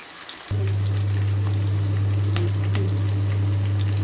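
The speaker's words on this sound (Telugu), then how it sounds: "ఆయిల్ కొంచెం హీట్ అయిన తర్వాత అందులో ఒక ఉల్లిపాయ కట్ చేసి వేసుకున్నాను. ఇది బాగా ఫ్రై అవ్వాలి." Sliced onion frying in hot oil in a pan, a steady loud sizzle that starts abruptly half a second in and holds evenly, with small crackles and pops scattered throughout.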